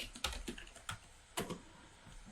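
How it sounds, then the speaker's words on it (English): Keystrokes on a computer keyboard while a single quote and an SQL injection string are entered in a security lab. A handful of separate, crisp clicks land at irregular intervals over quiet background hiss. "I will type a single quote on the keyboard first"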